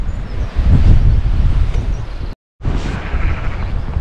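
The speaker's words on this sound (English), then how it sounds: "It's a lovely sunny day, but it's extremely windy" Strong wind blows through a valley in the Cheviot Hills on a sunny day, roaring and buffeting loudly against the microphone in heavy low rumbling gusts. A brief dropout interrupts it before the gusting resumes.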